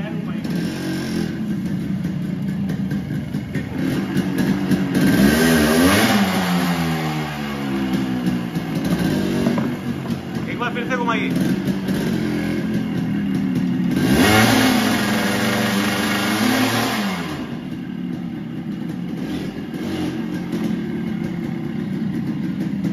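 A 1995 Yamaha RX100 motorcycle engine under restoration idles and then revs up twice in rising, falling swells. The engine is close and steady, and voices can be heard alongside it.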